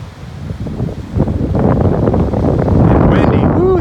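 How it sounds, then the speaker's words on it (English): Strong wind gusts across a beach in North Naples, Florida, roaring and buffeting the microphone continuously, with a voice speaking over the blustery noise. "That wind is kicking up now, really kicking up."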